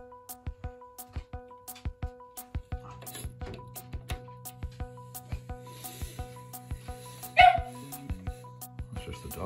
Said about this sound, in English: That's just the dog.